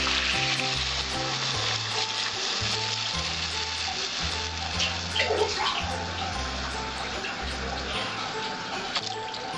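Live magur catfish sizzles in a pan for a Bengali curry, a loud continuous frying hiss with a low steady rumble underneath and faint scattered crackles.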